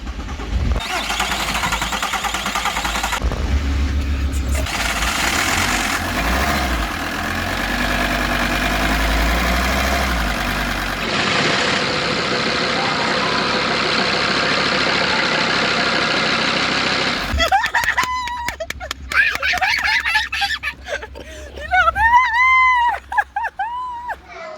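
A vehicle's diesel engine cranks, catches and settles into a steady idle after injector work, following a month of not running; loud and close, with brief voices in French toward the end.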